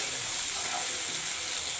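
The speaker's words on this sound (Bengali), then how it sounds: "পেঁয়াজটা ভেজে নেব, তারপর অন্য মশলা দেবো" Onion and green chili fry in oil with a steady, even sizzle, close and fairly quiet, no voices.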